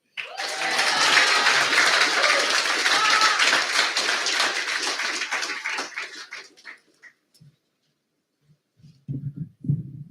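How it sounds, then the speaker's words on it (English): An audience applauds after a speech at a Pasifika school cultural event, the clapping loud and sustained at first and then thinning to scattered claps before fading out, with brief voices afterward. "One round of applause, please, for Taua."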